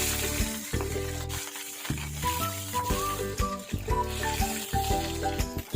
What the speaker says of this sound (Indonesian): terinya ini aku goreng sebentar, agak sedikit coklat